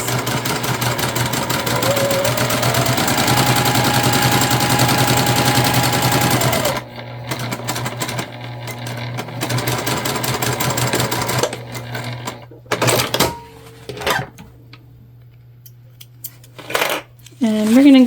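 A sewing machine stitches the seams of a beginner-friendly Amira crossbody bag. It runs steadily and loudly for about seven seconds, then gives shorter bursts and stops, with small clicks and handling noises in between.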